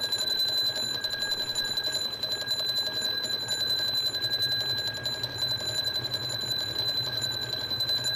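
Loud, steady electronic alarm tone from ARK: Survival Evolved, a shrill sustained beeping that continues unbroken with no one speaking.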